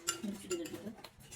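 Light metal spoon and cutlery clinks against dishes during a buff momo meal, a few quick faint chinks at close range among soft voices.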